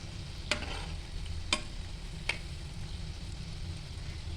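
Shankarpali deep-fry in oil over low heat with a soft, steady bubbling hiss, broken by three quiet utensil clicks at even intervals, fairly faint and close.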